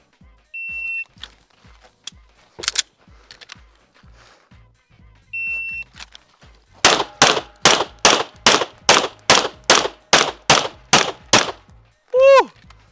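Rapid pistol gunfire on a USPSA practice stage at an outdoor range: a beep, then a fast run of about ten sharp, loud shots in steady rhythm, with electronic timer beeps and a closing chirp.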